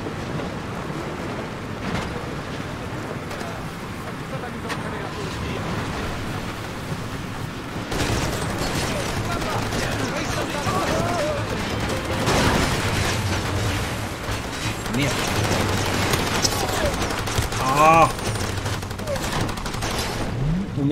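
Gunfire in the video game Far Cry 2 erupts as dense bursts and a fusillade over a water-and-wave backdrop, loud and close, with no talk during the shooting.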